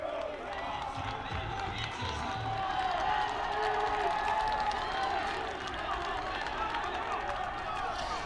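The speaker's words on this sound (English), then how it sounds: "the crowd serenading the pitcher on his way to the bench" A high school baseball crowd at a playoff game cheers and applauds as the pitcher walks off to the bench, a steady mid-distance roar of voices and clapping that swells briefly and then settles.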